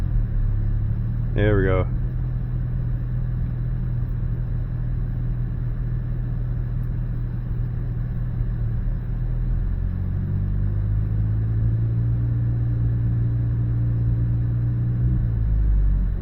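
An AMC Gremlin engine with a misfire is revved slightly, giving a steady loud rumbling drone with a small rise in pitch later on, while someone speaks briefly near the start.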